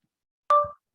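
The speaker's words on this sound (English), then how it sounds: "My Google on my phone is going off right now." A Google voice assistant on a phone goes off with a single short, clear electronic chime, close by in otherwise silent surroundings.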